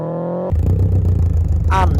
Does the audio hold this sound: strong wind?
no